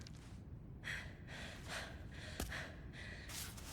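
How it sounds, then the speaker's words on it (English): A female climber character in the climbing video game Cairn pants softly, a series of quiet, rhythmic breaths and gasps repeating at an even pace, with no talk over them. "And hear her panting"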